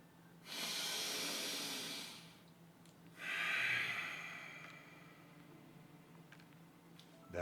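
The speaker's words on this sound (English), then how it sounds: "That is alternate nostril breathing, my friends." Alternate nostril breathing during a yoga class, two long, close breaths through the nose, each a soft airy rush lasting about two seconds, separated by a quiet pause.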